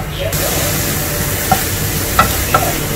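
Ginger and garlic sautéing in a pan for a Christmas prawn roast, with a steady close frying sizzle and a few short clinks and scrapes from stirring; no voices.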